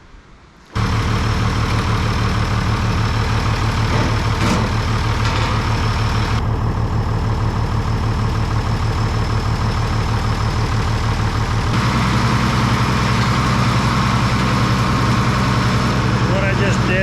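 A tractor's diesel engine idles close by, a loud, steady low throbbing rumble that continues throughout with a slight shift in tone.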